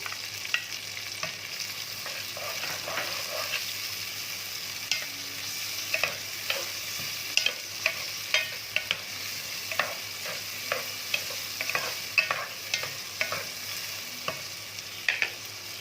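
Onions frying with ginger garlic paste sizzle steadily in a hot pan while a utensil scrapes and stirs, producing scattered clicks and taps over the constant frying hiss.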